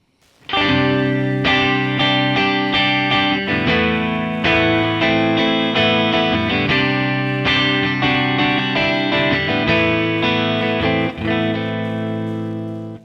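An electric guitar plays chords and notes through a 1968 Fender Twin Reverb amp on the normal channel with bright on, a clean, ringing tone, sustained and full throughout.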